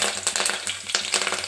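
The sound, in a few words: tempering spices and curry leaves frying in oil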